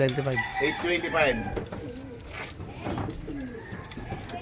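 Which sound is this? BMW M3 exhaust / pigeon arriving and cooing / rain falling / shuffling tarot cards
pigeon arriving and cooing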